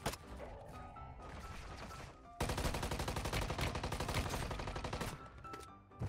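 Gunfire in the mobile shooter game Warzone Mobile: dense rapid bursts of automatic fire, loud and near, with a brief pause before a heavier sustained volley that fades near the end.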